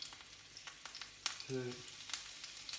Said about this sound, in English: Pan's hot, sizzling, got sizzle.